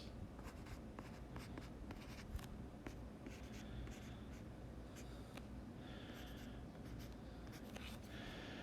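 Pen or marker writing on a board during a maths lesson on functions, heard as faint, close scratchy strokes in quick irregular bursts, with a brief pause and then more strokes.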